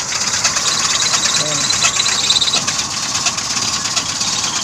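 A noisy car engine idles with a steady rumble and rattling ticks throughout, while someone talks over it nearby.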